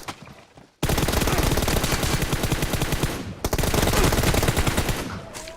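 Rapid automatic gunfire in a mobile shooter game: after a short quiet lead-in, a loud, close burst of fast evenly spaced shots runs for several seconds, pauses briefly, then resumes at the same brisk rhythm.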